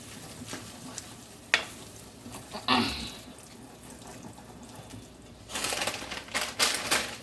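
Beef mixture for shepherd's pie being stirred in a pan, with soft scraping and sizzling, a few louder clanks of the utensil and a burst of stirring near the end.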